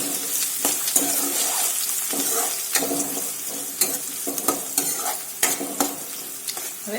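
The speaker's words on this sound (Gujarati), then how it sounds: "હવે આ ડુંગળીને આપણે થોડી આછી ગુલાબી થાય ત્યાં સુધી સાતરીશું।" Finely chopped large onion sautéing in hot oil, a steady sizzle broken by frequent scraping stir strokes from a spoon in the pan, close and clear with no talking.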